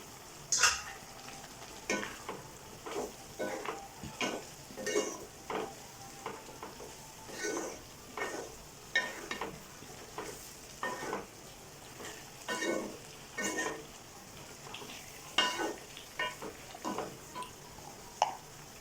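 Cooked cauliflower being stirred into a cauliflower curry in a pan, giving steady scraping and stirring strokes over a soft sizzle, repeated in a loose rhythm close by, with no talking.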